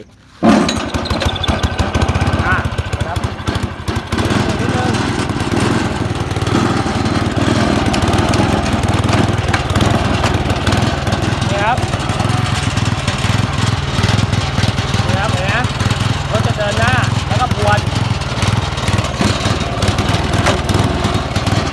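A Kubota rotary tiller's engine catches in the first moment and then runs loud and steady close by, with a continuous rough mechanical drone that holds for the whole stretch.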